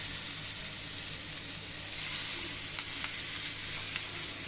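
Mushroom tikka pieces laid one by one into hot oil in a pan, a steady close sizzle and hiss with a few light taps as pieces are placed, no talk.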